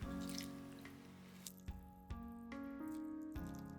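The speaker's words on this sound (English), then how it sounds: "I squeeze out the excess water." Excess water drips from squeezed mizuna greens in a quiet kitchen, a handful of faint, sharp drops falling unevenly over a few seconds.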